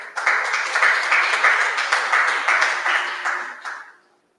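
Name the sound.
audience applause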